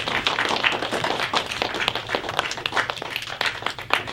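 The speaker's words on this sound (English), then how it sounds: "You may give them a round of applause." A room full of people applauds a debate team in a dense, continuous burst of clapping lasting a few seconds, fairly loud and close.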